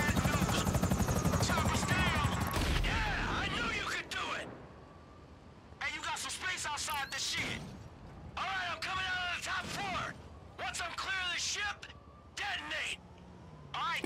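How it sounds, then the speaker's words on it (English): Helicopter hovering and chasing the player in the video game Grand Theft Auto 5, a loud steady rotor chop through the first four seconds, then fainter and partly masked as people talk over it. "That's twice I have one of these scary ass choppers on me, man."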